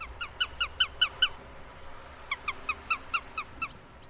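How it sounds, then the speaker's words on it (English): A sparrowhawk gives two series of quick, high, repeated calls, the first louder and the second a little fainter, with a brief gap between them. "And that's a sparrowhawk."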